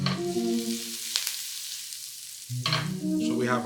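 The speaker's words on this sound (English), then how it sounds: "So we have our onions that's sauteing." Onions sautéing in a pan for chicken Française, a steady close sizzle of frying that drops away briefly and then returns with stirring clatter.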